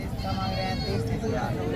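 Sheep bleating at a busy livestock market, several wavering bleats rising over a crowded background of voices and babble, fairly close and loud.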